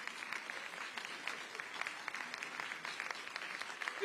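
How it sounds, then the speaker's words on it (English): A room of guests at an arts and cultural tourism awards ceremony claps in a quiet, fairly distant round of applause, steady and unbroken for a few seconds. "Give them a round of applause."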